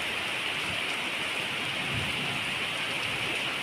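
Heavy rain pours steadily in Hyderabad during summer, a dense, continuous hiss of drops hitting surfaces, loud and close with no pauses throughout.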